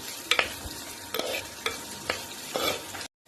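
Onions frying in a pan, stirred in several distinct scrapes over a steady sizzle, close and fairly loud, with no talk, ending in a sudden cut to silence.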